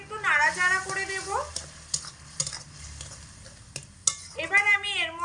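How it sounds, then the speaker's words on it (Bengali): Spices being stirred in a sizzling pan of frying potato snack, utensil scraping and light clinks over steady sizzle, with someone talking in between. "হালকা একটু নাড়াচাড়া করে দেব।"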